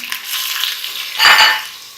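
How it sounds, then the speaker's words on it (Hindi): Mutton being fried with ginger garlic paste in a pot for shaljam gosht, a brief close sizzle and stirring scrape swelling near the end over a steady hiss. "गोश्त ऐड करके हमने इसको थोड़ा सा भूनना है"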